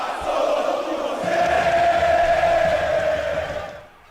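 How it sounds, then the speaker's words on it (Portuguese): Guarani (Macaca) football fans at a Campeonato Paulista match chant together in a loud, echoing stadium roar played back as a recording, a sustained crowd song that swells and then fades out at the end. "Solta a torcida da Macaca"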